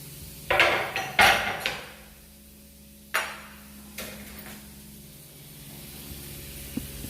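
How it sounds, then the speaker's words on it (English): A utensil clatters and scrapes against a pan while green peppers are stirred in melted butter, giving several distinct knocks in the first half and then quieter scraping, with no talking. "Now I'm going to stir this."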